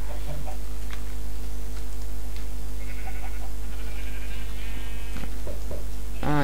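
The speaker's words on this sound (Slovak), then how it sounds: "Keď idem ostrihať ovci, hej, ovce." Sheep bleating in the game Minecraft on a farm, with a few short bleats over a steady hum and scattered ticking game noises, moderately loud and without talk.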